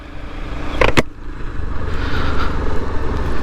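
A motorcycle engine running steadily while the bike is ridden, a continuous close drone with wind noise and a couple of sharp ticks early on, no talking.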